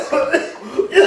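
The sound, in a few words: cough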